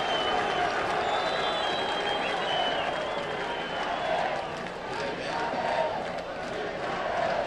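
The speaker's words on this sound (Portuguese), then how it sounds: "O torcedor aplaude o argentino." Stadium crowd at a Grêmio versus Flamengo football match applauding an Argentine player, a broad distant roar of clapping and crowd noise filling the whole stretch, with a commentator's voice faintly mixed in.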